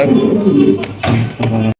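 A pair of red indigo Shoking fancy pigeons cooing up close, with low, throaty bursts in about three phrases and short pauses between them, and no talk over them.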